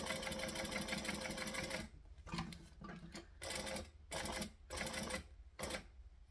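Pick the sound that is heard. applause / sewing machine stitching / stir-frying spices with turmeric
sewing machine stitching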